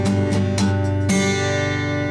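Close, clear acoustic guitar strumming joins two song patterns: a run of quick rhythmic down-up strokes ends in a final strum that rings out and sustains, played alone without speech.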